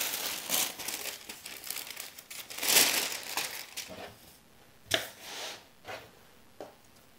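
Carbon paper crinkles as a fabric piece is laid wrong side down on it over a cutting mat, with close, soft rustling and a few sharper crackles that fade out toward the end.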